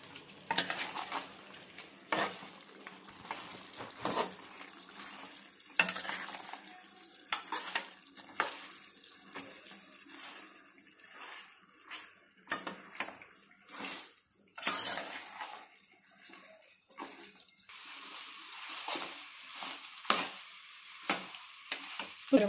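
Spiced country chicken curry with salt and chili powder is stirred in a pan, with repeated scraping strokes over a steady close sizzle of frying and no talking.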